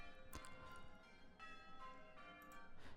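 Church-like bells ring out at the start of a song, with several clear, ringing strikes and long sustained overtones at moderate volume and no talking.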